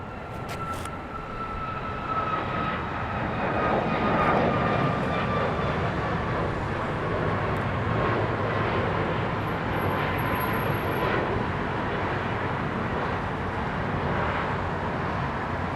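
An airplane passes over LAX airport with a loud, sustained engine roar that swells and holds steady as it moves by, with no speech.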